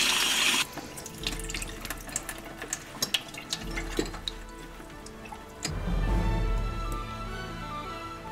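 Tap water runs and splashes as a felt hat in a Ben Hall era style is soaked to saturation for reshaping, a steady close hiss of flow with drips and handling knocks, surging louder near the end.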